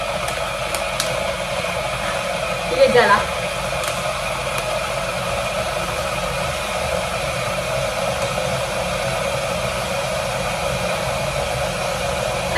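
An electric kettle heats water with a steady hiss and rumble through the whole stretch, a faint clink near the start, and a few words spoken quietly over it.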